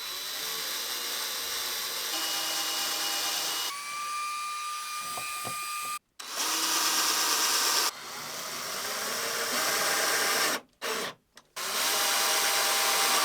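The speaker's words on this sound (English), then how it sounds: "It's so much easier to screw things in after drilling." A power drill whirs steadily as it drives screws into pre-drilled wood during a campervan build, its motor pitch rising and dropping, with a few brief stops between runs.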